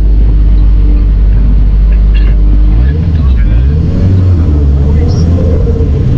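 Loud, close Volkswagen Golf engine rumbling with deep low drone and shifting pitch, making odd noises as it runs, with voices talking over it.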